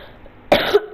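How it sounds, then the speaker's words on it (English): A person gives a quick, close double cough, two short harsh bursts about half a second apart. "Sorry, my cough. It's still there."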